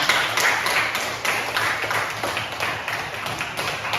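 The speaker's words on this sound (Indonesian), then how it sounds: "Tepuk tangan untuk semuanya." Pupils clap for everyone during an Islamic religious lesson on prayer and remembrance, a continuous uneven patter of several hands at close range with no talk.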